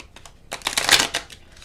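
Tarot cards being shuffled by hand, a soft papery riffling that swells to a brief louder flurry in the middle and then tapers off, close up with no talking.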